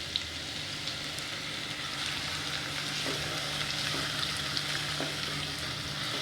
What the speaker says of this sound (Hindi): आधी मिनट तक मसालों को फ्राई करने के बाद हम इसमें 2 प्याज ऐड कर देंगे, बिल्कुल बारीक काट कर।